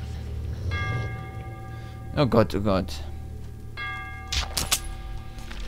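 Bell tones in the Metro 2033 game ring twice with long, sustained harmonic chimes, separated by a pause, while someone talks in between and over them.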